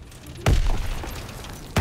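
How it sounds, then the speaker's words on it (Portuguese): Two sharp, heavy thuds from grenade explosions in Call of Duty WWII, the first followed by a rumbling tail and the second arriving about a second later, loud and close. "Arremessando granada!"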